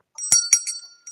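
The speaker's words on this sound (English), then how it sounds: "We're going to ring the bell." A small bell rings in three or four quick bright dings followed by one lighter ting, clear and close with no voices.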